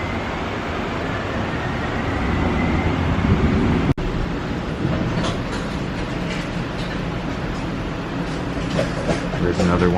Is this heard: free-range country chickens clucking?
no